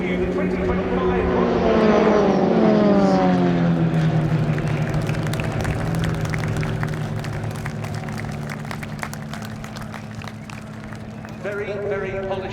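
Extra 330LX propeller aerobatic planes of a military display team fly a formation manoeuvre at an air show, a loud engine drone with sliding pitch that swells and fades as they pass, with a commentator talking over it.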